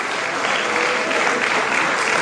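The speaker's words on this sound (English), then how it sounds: "a warm welcome and a big round of applause" Steady, dense audience applause at a 40th celebration dinner fills the whole stretch, an even wash of many hands clapping at close range with no pauses.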